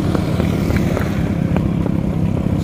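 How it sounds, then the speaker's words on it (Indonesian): A motorcycle engine labours loudly up a steep mountain trail toward Curug Sikarim in Dieng, holding a continuous strained drone close by with a few small bumps. "motornya nggak kuat di bawah tuh, nggak kuat naik"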